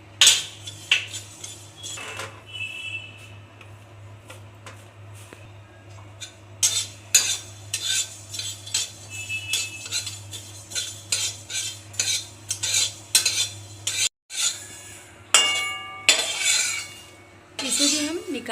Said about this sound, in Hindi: हमने इसमें कलौंजी डाला है और इसे भी भुनेंगे।